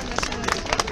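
A gala audience at the 46th Gdynia Polish Feature Film Festival claps in a brief, dense burst of applause with crowd murmur, individual claps popping out of a continuous noisy wash.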